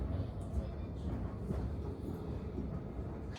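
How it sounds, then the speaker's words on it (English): A Nottingham Express Transit tram, number 214, rolls into Cator Lane stop with a low, steady rumble at moderate distance, fairly quiet and continuous over a few seconds. "And here's tram 214."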